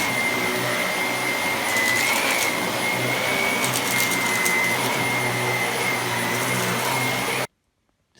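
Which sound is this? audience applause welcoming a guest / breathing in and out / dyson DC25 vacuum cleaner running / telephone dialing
dyson DC25 vacuum cleaner running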